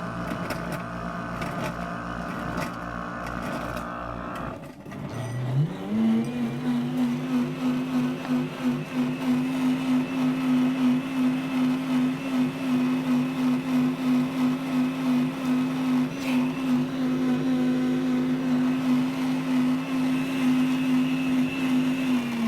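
CB1000 commercial blender blends a green smoothie with coconut milk, first a whirring startup, then a loud, steady motor whine that holds at one even pitch, close by, with no talking.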